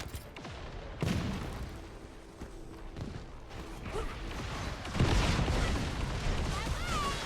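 An assault turret firing in The First Descendant video game, heard as a run of booming shots and blasts, with a loud impact partway through, among busy game effects and a talking voice.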